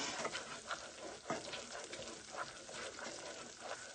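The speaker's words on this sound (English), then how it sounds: "Okay, I'm gonna stir this in here. That's the nutritional yeast." A spoon stirs nutritional yeast into vegan gravy in a pan, giving a soft, quiet, wet swishing over a low background sizzle.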